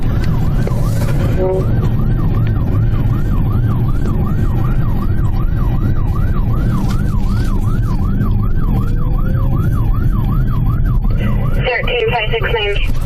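A police unit's wailing siren sweeps up and down steadily over road and engine noise. A radio-like burst comes in near the end.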